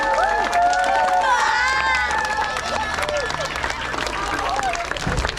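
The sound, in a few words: crowd applause and cheering at the oratorio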